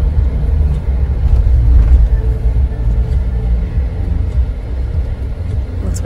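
Inside a car driving up toward the Cloisters at Fort Tryon Park in Manhattan, a low road rumble holds steady, loud and close, with faint talk in the cabin.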